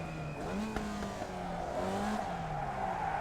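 A Formula Vee racing car in iRacing loses grip and spins from lift-off oversteer at Lime Rock Park, its engine note warbling and dropping while the tires squeal and skid steadily for a few seconds.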